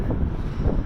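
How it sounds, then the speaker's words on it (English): Strong wind buffets a microphone outdoors, making a loud, low, rumbling roar that flutters without a break. "And it doesn't help that it's really windy today."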